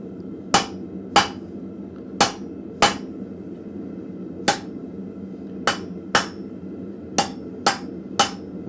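A blacksmith strikes a hot cut chisel with a hammer to cut through hot steel for an arrowhead, the sharp metallic blows landing one at a time in irregular pairs and clusters over a quiet, steady shop hum.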